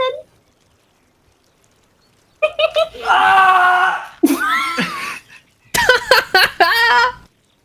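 A person at a Dungeons & Dragons tabletop session lets out loud, strained screams in several bursts over a few seconds, following a short quiet pause.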